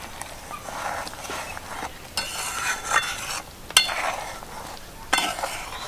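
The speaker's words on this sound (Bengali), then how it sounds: "এবার আমি দিয়ে দেবো ভেজে রাখা বেসনের বড়াগুলো।" Gram flour fritters being stirred into thickened, simmering gravy in a pan, with soft scraping and stirring, a low bubbling sizzle and a few sharper utensil knocks against the pot.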